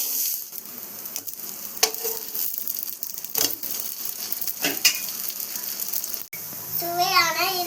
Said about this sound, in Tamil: அடுப்பை சிம்ல வச்சுட்டு தோசை வேக விட்டுடணும்